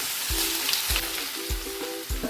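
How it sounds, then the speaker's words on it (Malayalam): Chopped banana sizzles in two spoons of ghee in a pan, a continuous close frying crackle with a few soft thuds of stirring at regular intervals. "ഇനി ഇതിലേക്ക് നമുക്ക് അരിഞ്ഞു വെച്ചിരിക്കുന്ന പഴം ചേർത്ത് കൊടുക്കാം"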